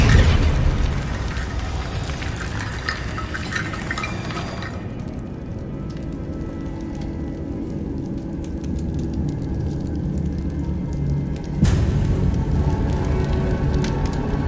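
Bombarda spell explosions in Hogwarts Legacy, a loud booming blast that rumbles and decays over several seconds, then a second sharp burst near the end, with no talk over it.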